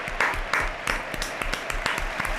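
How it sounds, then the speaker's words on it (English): Players at an FC Barcelona versus PSG Champions League football match applaud, giving a run of distinct, fairly close handclaps in an irregular rhythm over faint stadium background. "His teammates applauding as well for Fermin, Ter Stegen, Joan Garcia"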